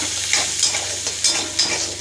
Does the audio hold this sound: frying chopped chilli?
yes